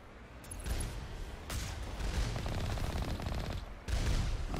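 A machine gun fires in Mass Effect during a vehicle fight, with long, loud sustained bursts of rapid rattling shots broken by brief pauses.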